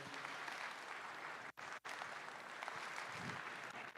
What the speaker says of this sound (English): Let's give them all one big round of applause, please.